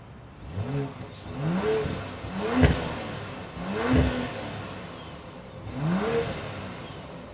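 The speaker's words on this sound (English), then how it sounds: "It does have the upgraded exhaust that you don't get without that package. So while we're back here, let's go ahead and take a listen to the exhaust." A 2023 BMW X7 with the M Sport Package's upgraded Pro exhaust, revved four times while stationary, each blip rising and falling in pitch with a sharp crackle at the peaks, close and loud with no talking.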